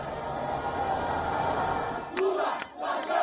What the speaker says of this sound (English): The crowds were ecstatic.